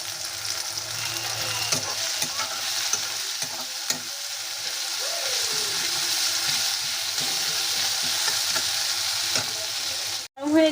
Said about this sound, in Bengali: দিয়ে দিচ্ছি পেঁয়াজ কুচি, পেঁয়াজগুলো একটু ভেজে নেব।